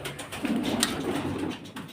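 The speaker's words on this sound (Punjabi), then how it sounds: "ਲੋ ਬਈ ਇਧਰੋਂ ਫੜਦੇ ਆ ਕਬੂਤਰ" Soft, low pigeon cooing murmurs steadily through the clip, close by, with a brief higher rustle partway through.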